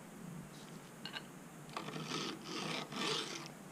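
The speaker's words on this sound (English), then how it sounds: "I do have a 732 from my chainsaw. So I'm just gonna use the 732." A 732 chainsaw file rasps gently across a soft Mikuni carburetor needle in short, faint scraping strokes that grow slightly stronger toward the end, close up with no talking.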